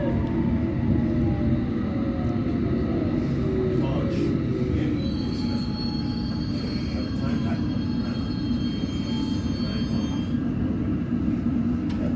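A London Underground Hammersmith & City line train to Barking, heard from on board, gives a steady, loud rumble and a rising motor whine as it runs toward Royal Oak.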